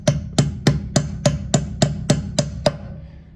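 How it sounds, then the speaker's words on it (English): Ten sharp, evenly spaced hammer blows drive a cold chisel into a swollen lug nut on a Ford wheel, each metallic strike ringing briefly and loud and close, with no talking. "This is the cold chisel here. What we're going to do is we're just going to punch through the center."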